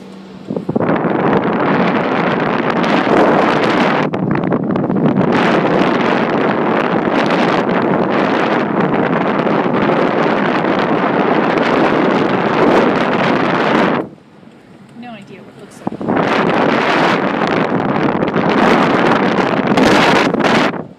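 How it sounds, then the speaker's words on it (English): Loud wind buffets the microphone on a car moving along with drywall strapped on top, roaring almost continuously, dropping away briefly in the middle before gusting back strongly. "The wind is not my friend."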